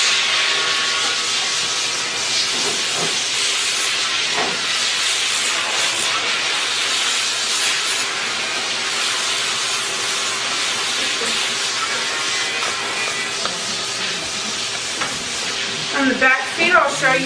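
A rotary Dremel tool grinds and smooths a dog's nails, taking off rough edges during grooming, giving a steady high-pitched hissing whir that runs continuously at close range, with a few brief bumps near the end.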